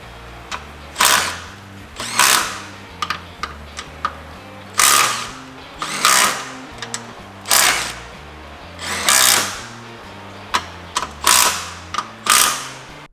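Milwaukee M12 Stubby impact drivers are triggered in repeated short bursts, each a loud close whir with rattling impact clatter, separated by brief pauses, with no talking.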